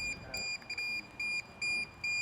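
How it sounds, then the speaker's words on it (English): A DJI drone beeps with a series of short, high electronic tones repeating in a fairly even rhythm, moderately loud with no one talking. "DJI drones seem to just beep at random times, and return to home, which totally messes up your shot."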